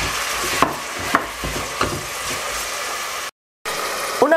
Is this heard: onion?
yes